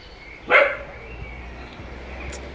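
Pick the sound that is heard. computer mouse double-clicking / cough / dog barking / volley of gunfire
dog barking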